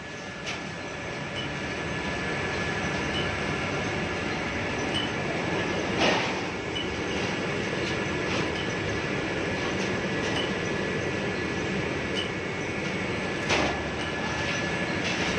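A roof sheet roll forming machine runs in a factory, making a steady loud mechanical rumble and whir with a couple of brief clanks as the sheet roll moves through. No one speaks.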